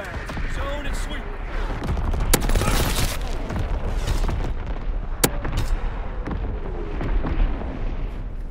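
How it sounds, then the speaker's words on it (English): Artillery and mortar barrages in Call of Duty: WWII free-for-all multiplayer, a loud continuous wall of booming explosions and rapid gunfire bursts with a sharp crack near the middle, under a radio-style voice. "Firing division artillery. Target position confirmed."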